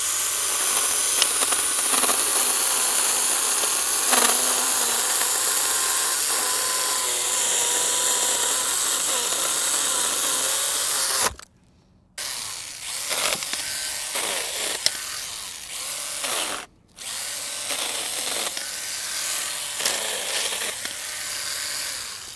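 STIHL GTA 26 battery pruning saw cutting small branches, a close high whirring chain whine that runs steadily, then cuts out abruptly twice and restarts, with rustling wood between cuts.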